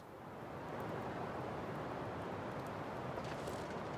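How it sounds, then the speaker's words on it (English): Wind blows across an open snowy landscape in the survival game The Long Dark, a steady broad rushing howl that swells within the first second and then holds at an even level, with no voices. "It got too windy."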